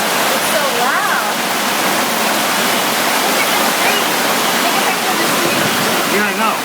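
A hailstorm in Brooklyn in October pounds down in a dense, unbroken roar of hard ice hitting surfaces. Brief voices surface faintly within the din.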